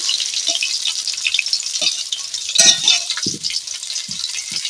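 Potatoes fry in hot oil in a pan for a cauliflower and fish dish with spinach. A steady bright sizzle runs throughout, and a few soft knocks and scrapes come through as a spoon stirs them.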